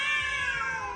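A cat gives a single close, loud meow, alone and without talk.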